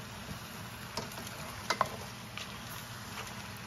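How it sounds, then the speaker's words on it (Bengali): Beef chunks and tomato being stirred in a frying pan for beef rezala, a soft steady sizzle with a few scraping knocks of the spoon near the middle, close and fairly quiet. "আমি এখন টমেটোটা দিয়ে দিয়েছি। এখন এটাকে আমি নেড়ে চেড়ে নিব কতক্ষণ।"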